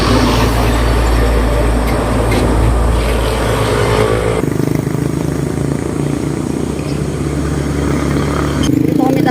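A motorcycle rides along with a loud, continuous engine drone and wind rush that shifts in tone midway, with a person talking over it.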